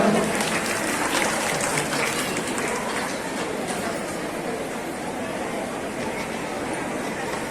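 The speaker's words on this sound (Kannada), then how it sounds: "ಅವ್ರಿಗೆ ಎಲ್ಲರಿಗೂ ಜೋರಾದ ಚಪ್ಪಾಳೆ ಹೊಡಿಬೇಕು ಎಲ್ಲರೂ" Applause from a crowd at a village meeting in Santhapur, run under a rural development program: dense, continuous clapping that fills the whole stretch, steady and loud.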